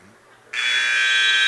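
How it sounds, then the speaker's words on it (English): A loud, steady electronic buzzer ends a period in a high school boys' wrestling match, cutting in abruptly and sounding continuously after a brief quiet moment. "saved by the buzzer"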